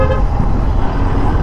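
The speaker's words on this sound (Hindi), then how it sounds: "हॉर्न मार रहे थे जान पूछ के" A loud, sustained car horn blares up close over busy highway traffic noise between Jammu and Delhi, heard from a Royal Enfield Interceptor 650 motorcycle.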